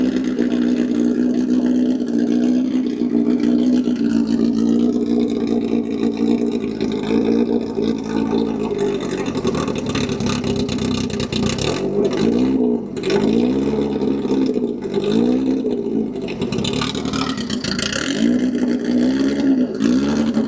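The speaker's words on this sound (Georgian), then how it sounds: "Ferrari კი არა, Cooper-ის Formula 1-ის ავტომობილი იყო დაქოქილი" A Cooper Formula 1 car engine runs on a frozen lake at the ICE St. Moritz show, holding a loud, steady drone that swells into several rising and falling revs in the second half.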